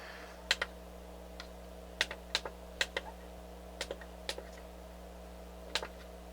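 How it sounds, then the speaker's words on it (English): Relays inside an NAD C350 integrated amplifier click sharply in irregular pairs and singles, about a dozen close, crisp clicks over a steady low mains hum with no talking. "You can hear the relays clicking as I change."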